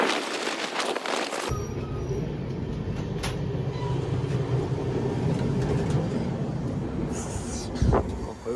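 A goods train passes near a bridge on the road route from Brahmapur to Goa, rolling with a steady, heavy rumble and occasional metallic clanks and squeals, fairly close throughout.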